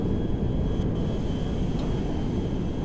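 A C-17A Globemaster III mod aircraft in flight in the video game GTA 5, giving a loud, steady broadband engine roar that holds without a break, with no voices over it.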